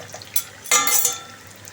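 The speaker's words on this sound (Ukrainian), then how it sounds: "І смажимо на середньому вогні." Pies frying in oil in a pan over medium heat, giving a bright sizzling burst that swells mid-clip and then settles into a softer crackle, close and alone without talk.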